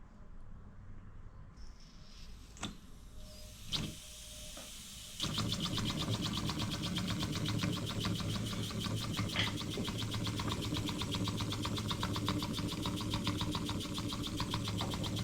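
A small bar stock wobbler model engine runs on about 5 psi of compressed air. A few scattered clicks and knocks come first, then a loud, fast, steady chuffing rattle sets in and carries on unbroken to the end, slightly uneven.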